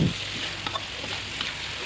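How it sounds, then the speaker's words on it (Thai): Steady sizzling of pork frying in a pan, with a few soft scraping stirs, continuous and close. "เดี๋ยวเราทำการคนสักเล็กน้อยค่ะ"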